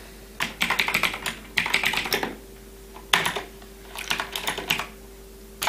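Fingers type VBA code on a computer keyboard, with close, crisp clusters of rapid keystrokes in short bursts separated by brief pauses over a faint steady hum.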